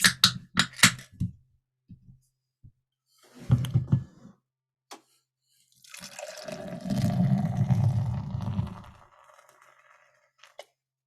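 Four Hands Brewing Imperial IPA is poured, a gurgling, splashing stream lasting a few seconds after some tapping and clinking, close and clear in an otherwise quiet room.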